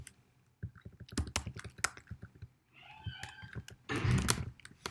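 Quick irregular clacking of computer keyboard keys while coding PHP, close and fairly loud, with a short pause and then a denser flurry of keystrokes near the end.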